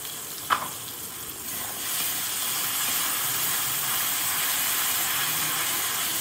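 Tomato paste frying in oil in a pan as it is stirred, a dense steady sizzle with scraping stir sounds and one sharp clink near the start, close and continuous.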